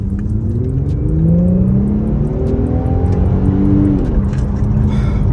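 A 2021 Infiniti Q50 accelerating hard up a roadway ramp, with a loud, steady engine drone rising in pitch, a brief drop at a gear change, then climbing again, heard close from inside the car.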